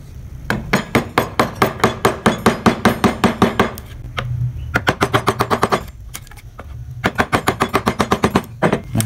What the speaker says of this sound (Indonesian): Kemudian dilanjut menggunakan pahat kol yang besar.